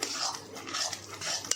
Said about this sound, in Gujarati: આ રીતે હલાવતા રહીશું સતત તેને